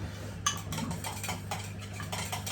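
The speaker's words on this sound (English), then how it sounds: "Stir with whatever you've got lying around" A spoon scrapes and taps against a pot while a stock cube is stirred into minced meat, faint irregular clinks and scrapes over a steady low hum with no talking.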